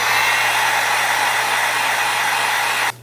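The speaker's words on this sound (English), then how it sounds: "What I'm going to do is use my heat gun just to soften the plastic here to make it more flexible" A heat gun on its lowest setting blows a steady, loud, close airy roar at an Xbox Series controller to soften its plastic grips, cutting off sharply near the end, with no one speaking.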